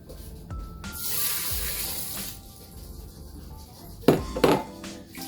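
Water poured into a pressure cooker holding four cups of rice, a steady splashing pour of about five cups of water, close and fairly loud, ending with a couple of sharp clanks of the pot.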